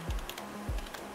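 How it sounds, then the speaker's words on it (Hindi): Keys clack on a computer keyboard during PC setup work, a few quick close taps in a short burst over a quiet room hum. "इसको टाइप कर रहा हूँ"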